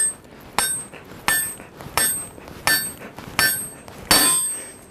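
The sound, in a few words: hammering glowing hot metal at a stove pipe forge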